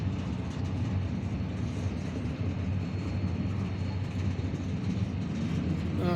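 A steady, heavy low rumble of a passing Norfolk Southern train continues throughout, loud and close, with a constant roar and no talking.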